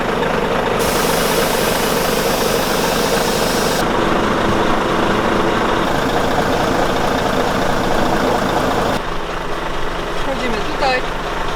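A Volvo truck's heavy diesel engine running at a loud, steady idle, close by and continuous with a deep low rumble, without a clear start.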